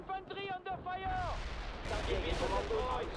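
Gunfire and artillery-like blasts from the military strategy game Conflict, a dense, continuous barrage of shots and booms under a short burst of radio-style voice at the start.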